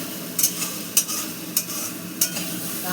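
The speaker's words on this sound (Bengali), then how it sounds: "শাক ভাজাটাও ভাজা ভাজা হয়ে গেছে।" Bottle gourd greens fry with poppy seeds in a pan, a steady close sizzle broken by four sharp, regular scrapes of a spatula stirring, with no talking.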